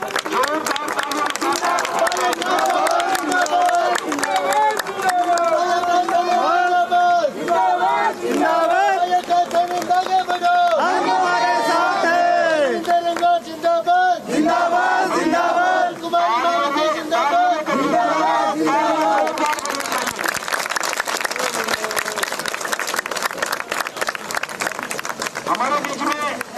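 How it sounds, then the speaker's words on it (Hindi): Steady applause from a crowd at an election rally in Hansi, Haryana runs throughout under continuous amplified speech from a speaker addressing the gathering. "जोरदार तालियां"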